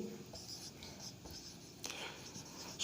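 Pen or marker writing by hand on a board during a maths lesson, soft scratchy strokes in short bursts over quiet room noise, with faint whispery breath.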